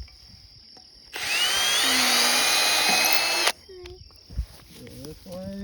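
A power drill bores at an angle into a post for an electric fence gate, one loud continuous whir of about two seconds, then quieter handling sounds and someone talking.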